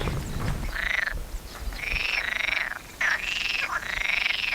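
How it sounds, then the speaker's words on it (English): Frogs croak beside a rural walking route between León and Villavante on the Camino Francés: several drawn-out, rasping calls in quick succession, fairly near and distinct against a quiet outdoor background. "Frogs."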